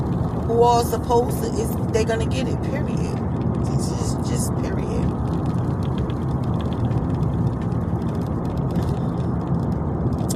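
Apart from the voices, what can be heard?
car driving, road noise inside moving car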